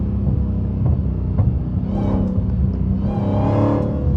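A Dodge SRT Hellcat engine rumbles steadily from inside the car while driving in the rain, with a low continuous drone that swells slightly as it pulls ahead, no voices over it.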